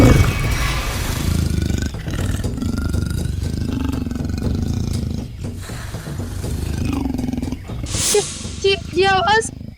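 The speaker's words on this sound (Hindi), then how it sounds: "ये आवाज तेंदुए के गुर्राने की आवाज है।" A leopard growls in a low, rough, sustained rumble that continues for several seconds, joined near the end by brief higher cries.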